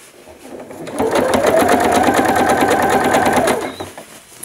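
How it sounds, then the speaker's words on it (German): A sewing machine runs in a steady, rapid stitching whir as it sews a seam in small doll trousers, starting up, running for about three seconds, then stopping, close and clear. "Könnt ihr durch diese Naht nähen hier."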